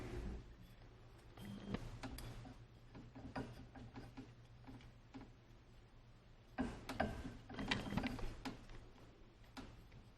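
A black microphone adapter screwed onto a boom arm with a Blue Yeti mic, giving close, quiet ratcheting clicks and small mechanical ticks and rubs that cluster in rhythmic bursts, with no talking.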